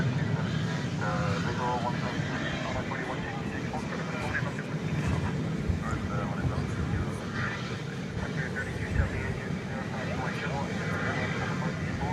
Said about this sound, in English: This aircraft is on the move.